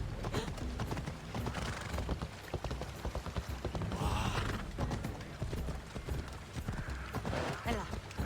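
Rapid clip-clop of horse hooves at a steady trot in the video game Assassin's Creed Odyssey, close and continuous, with voices talking over them and a brief whinny midway.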